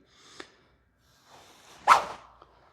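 A golf swing trainer makes a short swish through the air, followed by a sharper, louder whoosh, close by in an otherwise quiet space.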